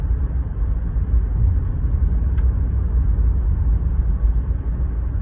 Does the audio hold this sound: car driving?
yes